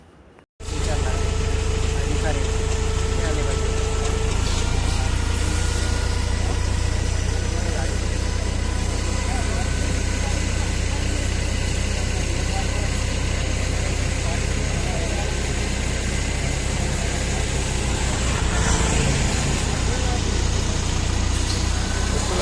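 Vehicle engines rumble steadily along the Poladpur–Mahabaleshwar road beside a burning banyan tree, a continuous low motor drone after a brief quiet start, with people talking over it.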